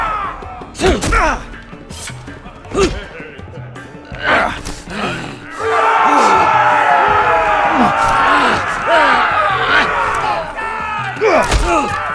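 An arena crowd in a Game of Thrones video game roars and cheers in a sustained swell, broken by sharp thuds and whacks of fighting, with voices heard before and after.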